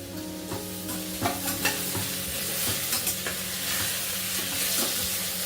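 Finely chopped brinjal sizzles and fries in a hot pan while being stirred, a steady close crackle broken by scraping stirs, with no talking.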